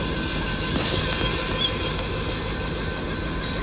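A very long 100-car freight train in the Train and Rail Yard Simulator video game, with several engines, rolls past in a continuous rail rumble with faint clicking wheel noise throughout.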